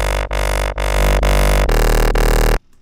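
A Serum synth bass with tube distortion and a filter drones thick and buzzy, in loud sustained notes broken by short rhythmic gaps before cutting off abruptly.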